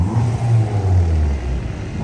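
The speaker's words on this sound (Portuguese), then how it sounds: "O cara tá acelerando um C3 ali" A Citroën C3 car engine revs nearby, producing a loud, steady rumble with low throbbing swells throughout the short stretch, with no talking over it.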